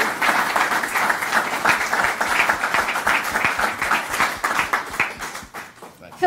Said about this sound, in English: I want to have everybody give another round of applause to Hans von Spakovsky